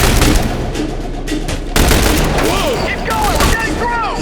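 A deployed turret in the video game The Bureau XCOM Declassified fires loud rapid bursts at close range, with a sharp jump in intensity partway through and voices calling out over the shooting.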